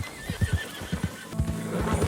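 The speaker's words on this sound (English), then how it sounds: "Come on, horses!" Mustang horses in Red Dead Redemption II trot with a quick, even clip-clop of hooves, close and clear, and one lets out a short neigh partway through.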